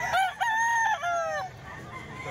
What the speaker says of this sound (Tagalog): Manok eh.